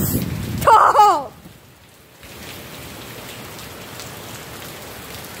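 Heavy rain falls during Hurricane Michael, a steady close hiss of drops pouring down continuously after a short burst of other noise at the start.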